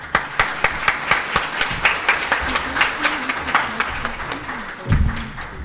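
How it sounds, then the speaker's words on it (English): An audience at a mobile money conference panel session applauds the panelists, with sharp rhythmic claps rising into a sustained round of clapping, a voice speaking briefly beneath the applause. "let's give them a big round of applause."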